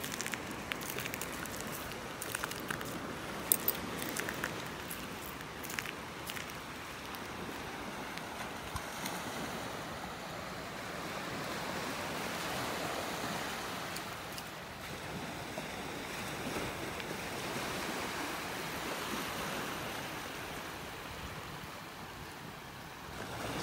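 Ocean waves washing onto a beach in North Naples, Florida as the tide starts to go out, a steady rushing surf with wind noise buffeting the microphone and no voices.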